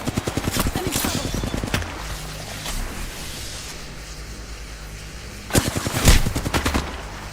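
Rapid bursts of automatic gunfire from the video game Apex Legends, loud and close, with short rattling volleys at the start and again near the end, separated by a quieter stretch of game ambience.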